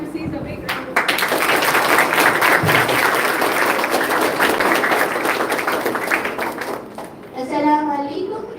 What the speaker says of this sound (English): Please give our MCs a big round of applause.